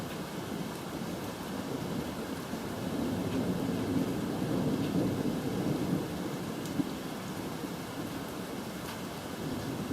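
A severe thunderstorm pours steady rain, with low rolling thunder swelling through the middle and a few faint crackles, a continuous dense roar with no voices.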